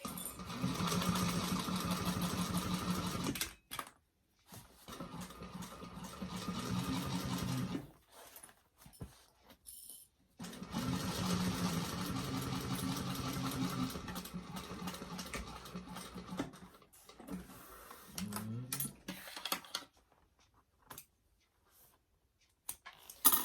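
A sewing machine stitches a convertible pack in several long, steady runs broken by short pauses, close and fairly loud, with brief clicks between the runs.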